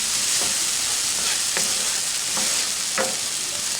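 Onions softening in a hot pan sizzle steadily while a utensil scrapes and stirs through them in several separate strokes, close and alone without voices.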